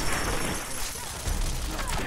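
Rapid gunfire from a two-shot Deadeye assault rifle mod in Fallout 4, dense continuous bursts of loud shots with clattering mechanical noise throughout, no talking.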